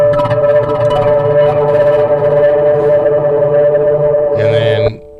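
An acoustic-electric Donner HUSH I Pro travel guitar is strummed through a huge reverb preset, giving a loud, sustained, washy chord that rings on for several seconds, then a final strum just before the sound cuts off abruptly.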